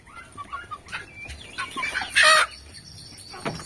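Chickens cluck and a rooster calls on a small rural farm plot, with scattered near clucks building to one loud, bright burst midway, then softer calls trailing off outdoors.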